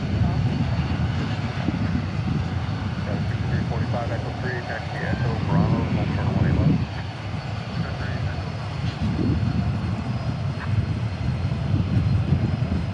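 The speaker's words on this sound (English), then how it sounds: "Delta ready to roll, A319." A Delta Airbus A319 jet waiting to take off at DFW Airport gives a steady engine rumble in the distance, while people talk over it.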